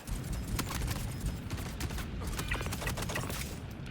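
Heavy, sustained video game gunfire crackles in dense volleys throughout, a loud continuous barrage of overlapping shots with no speech.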